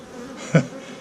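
A single loud, low honeybee drone buzz swells briefly as it passes close, over a faint steady hum of other bees.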